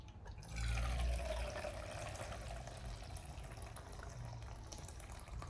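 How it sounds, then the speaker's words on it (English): Water pours quietly into a military ration heater pouch, a soft splash and trickle that swells near the start and then settles into a faint, steady flow. "I'm gonna put the pouch in here, fill it with water"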